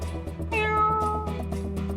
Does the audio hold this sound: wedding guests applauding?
no